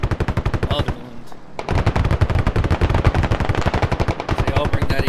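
A .50 caliber machine gun firing in a multiplayer war video game, loud sustained bursts of rapid shots with a brief pause midway, close and dominant.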